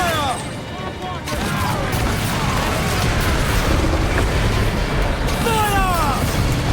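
Cannons fire from a pirate ship during a naval battle in Assassin's Creed Black Flag, loud repeated booms amid steady battle noise, with shouted voices over the din.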